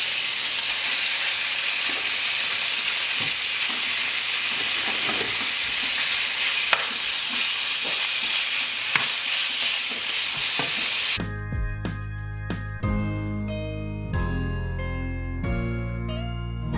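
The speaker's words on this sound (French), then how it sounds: "Ma poêle chauffe, donc je vais mettre de l'huile d'olive. Hop, et je vais venir mettre ma viande, comme ça elle va saisir." Meat sears in hot olive oil in a frying pan, a loud, continuous close sizzle with occasional stirring clinks for about eleven seconds, followed by music.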